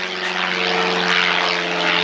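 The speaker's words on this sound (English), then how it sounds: "stinking airplane every time" A propeller airplane passes loudly overhead at an outdoor mini bike drag racing and flat track event. Its engine drones as a steady, humming roar that fills the whole stretch.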